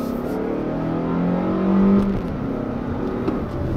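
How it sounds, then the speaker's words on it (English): Compact SUV such as a 2019 Jeep Cherokee, Honda CR-V, Toyota RAV4 or Ford Escape pulling away under acceleration, engine hum rising steadily in pitch then easing off as it shifts, heard from inside the cabin with no talk. "That's a much more traditional way to accelerate a vehicle."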